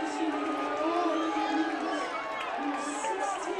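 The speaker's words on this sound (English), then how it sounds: "And this crowd is incensed." Agitated soccer stadium crowd reacting to a foul at a professional match, a dense, steady roar of many voices with shouting and jeers throughout, loud and sustained without letup.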